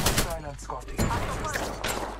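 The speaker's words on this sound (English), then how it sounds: "got Spitfire hitting him, man" A Spitfire machine gun in Apex Legends rattles off rapid, loud bursts of automatic fire, close and dense, with a few heavier thuds mixed in among the shots and voices heard over the gunfire.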